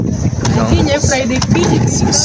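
A boat engine on Lake Victoria runs steadily and loud close by, a constant low drone with wind buffeting the microphone and a person speaking over it.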